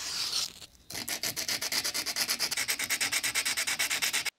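Sandpaper rubbed back and forth along a wooden tool handle, working from coarse to fine grit, giving a steady run of about twenty rhythmic, close, scratchy strokes after a brief pause.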